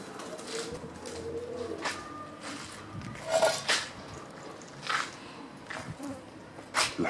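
An Iraqi pigeon outdoors in cold weather, with soft wing flutters and bird sounds against a steady background hum and buzzing insects, plus several brief louder bursts spread across the clip.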